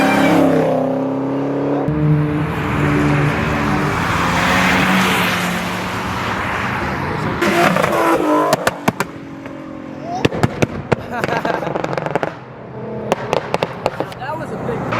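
Dodge Hellcat leaving a car meet, a loud engine roar and rev surging over the first eight seconds, then sharp crackling pops and bangs under excited shouting from a nearby crowd.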